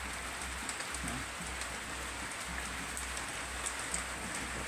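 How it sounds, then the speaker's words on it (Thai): Steady rain falls in a rural Thai setting, a dense, even hiss of drops on surfaces with no letup across the whole stretch and no voices. "โอ้ ตกจริง ๆ ครับ ก็คือว่าตกหนักไฟดับ"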